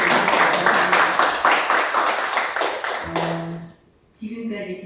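Close, rhythmic clapping from an audience at a panel discussion, a burst of applause that fades out after about three seconds as a voice begins speaking over its tail.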